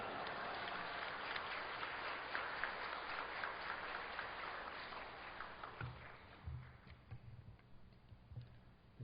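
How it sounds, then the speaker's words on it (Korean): Large congregation applauding at a Full Gospel church worship service in Gwangju, welcoming a guest pastor to the pulpit; a dense, steady wash of clapping fills most of the clip before thinning into scattered claps and low sounds. "목사님 나오실 때 할렐루야로 하나님께 영광 돌리고 큰 박수로 맞이하겠습니다"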